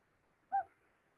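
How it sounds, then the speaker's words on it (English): A single soft, short hoot from a common loon, likely the mate of an adult and chick on a lake in Washington State, rising briefly out of near silence. "So anyways, so here's the hoot, and it's much softer, but you should be able to hear it."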